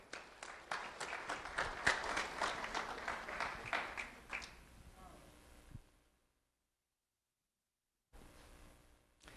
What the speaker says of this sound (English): Let's have a round of applause for Scarlet Cable.